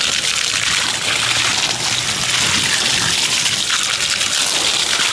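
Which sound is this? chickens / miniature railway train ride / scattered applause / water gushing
water gushing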